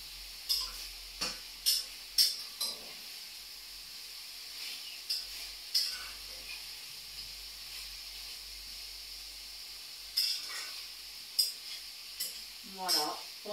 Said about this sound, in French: Ça ne cuit pas trop fort, donc ça risque pas de brûler.